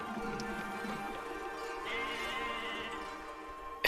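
A sheep bleats in the Okami video game, heard as a wavering, nasal cry layered over steady background music, with no talking.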